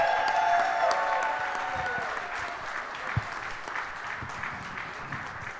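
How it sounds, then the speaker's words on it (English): An audience gives a big round of applause for Pro Football Hall of Famer LeRoy Butler at a Packers clubhouse event, a dense wash of clapping that starts loud and slowly tapers off. "big round of applause for the Pro Football Hall of Famer"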